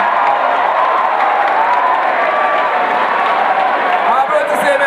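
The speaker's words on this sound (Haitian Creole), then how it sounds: "Je vous demande d'applaudir son arrivée." An audience at a graduation ceremony applauds a former president's arrival, sustained loud clapping from a big crowd, steady throughout, with an amplified voice speaking over it.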